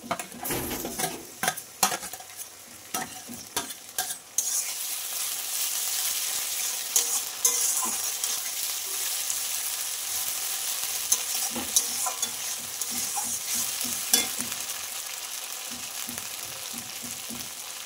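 Onion frying in a pan with cumin, ginger, dried chili and garlic paste, opening with several spoon scrapes and clinks, then a steady loud sizzle with intermittent stirring taps, no talking.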